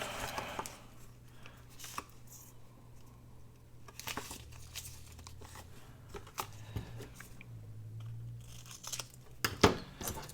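Scissors trimming the end off a strip of paper or vellum during a papercraft project: soft, close snips and paper rustles spaced irregularly over a quiet low hum, with a sharper snip or handling knock near the end.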